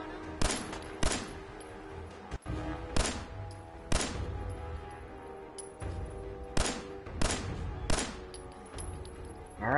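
Bursts of gunfire crack out in a Fallout 4 firefight, a run of loud, sharp volleys spaced irregularly across the stretch with steady background din between them.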